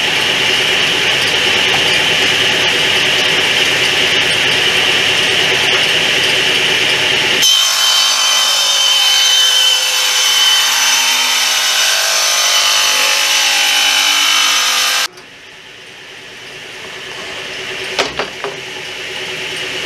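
A table saw cutting a wooden board for a DIY fish measuring board, a loud steady whine and rasp of the blade through wood that shifts tone midway, then cuts off abruptly and winds down, close up with no talking.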